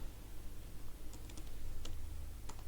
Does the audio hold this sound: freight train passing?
no